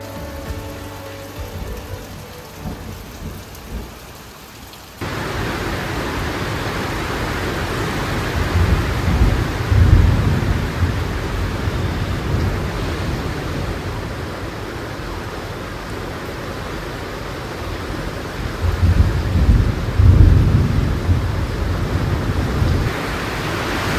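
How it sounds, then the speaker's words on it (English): Heavy rain pours steadily in the Colombian mountains, a dense continuous hiss that gets louder after a few seconds, with low rolls of thunder rumbling through it twice. "Listen to that rain!"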